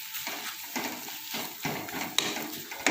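Flour roasted in a pan being stirred with half a cup of milk over a low flame, giving soft scraping and light clinks of a spoon against the pan with small knocks, close by and without talk.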